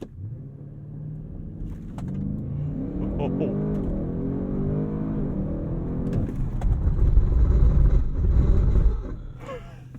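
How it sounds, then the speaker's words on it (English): A 2022 Audi RS6 Avant engine revs hard and launches at full throttle with a rising roar, then a heavy rumble and a loud surge during hard braking from 60 mph before it settles, with someone talking over it. "pin the throttle, build up some revs, and then immediately following the 0 to 60, we are going to do a braking test"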